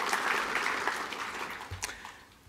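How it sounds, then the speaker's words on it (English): Applause from a conference audience at a technical talk on the state of SELinux, a dense crowd wash of clapping that stays steady and fairly loud for the full length, easing slightly toward the end. "So round of applause."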